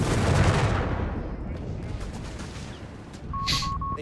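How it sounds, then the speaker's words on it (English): A Flak 30 anti-aircraft gun firing alongside a Wirbelwind in the World War II strategy game Company of Heroes 3, rapid booming shots fading into rumbling battle noise, with a voice commentating over it and a short beeping tone near the end. "The Flak 30 of course doing its job alongside the Wirbelwind"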